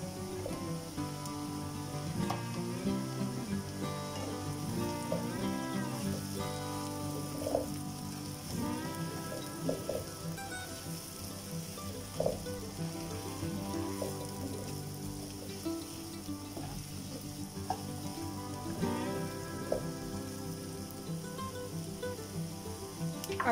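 Whole mushrooms fry with onions in a pan, giving a steady close sizzle and crackle with small pops scattered over a continuous hiss, overlaid with music.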